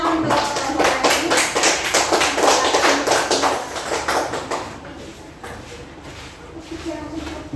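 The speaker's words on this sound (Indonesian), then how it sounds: "Berikan tepuk tangan untuk kelompok ini." Classroom applause from students for a presenting group, brisk clapping with a few voices mixed in, strong at first and thinning out over several seconds.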